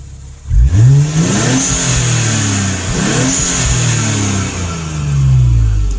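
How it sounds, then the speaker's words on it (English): Infiniti Q50 with a VR30 engine and HKS blow-off valve, warmed up with the hood open, revving hard several times in close, loud sweeps that rise and fall, then settling back toward idle between bursts, no talk. "I'm gonna give it a rev and see what you guys think."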